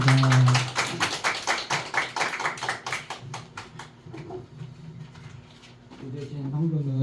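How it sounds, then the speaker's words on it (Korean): Church congregation at a Korean Sunday worship service breaks into applause, a loud burst of clapping that thins to scattered claps and fades, with speech returning at the end. "자, 박수로 화답해 주시면 감사하겠습니다"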